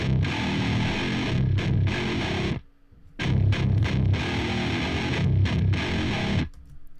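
Overdriven electric guitar through a Sigma, a dense, sustained distorted chord riff played loud and alone, with a brief stop partway before the riff resumes.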